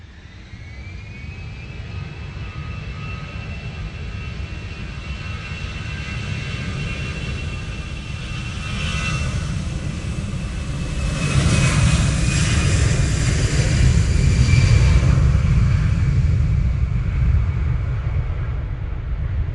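An airliner flown by a Chinese crew lands at Manchester Airport in wet, windy weather, a long jet whine and roar rising in loudness with a thick low rumble surging near touchdown, no voices.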